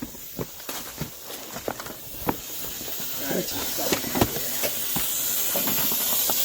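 A mechanical maple sap releaser, damaged by ice, hisses as it sucks air, with repeated sharp hissy bursts that build into a steadier rushing hiss, close up.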